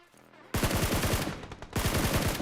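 Gunfire in the mobile battle royale game BGMI at Pochinki, where a loud rapid burst of automatic shots starts abruptly after a quiet lead-in, pauses for a moment, then resumes.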